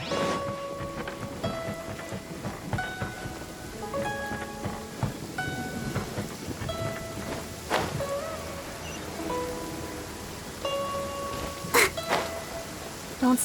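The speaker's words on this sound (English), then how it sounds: "Don't stay out in the rain for too long." Heavy rain falls steadily in Genshin Impact, with soft musical tones playing over it and a sharp thunder-like crack near the end.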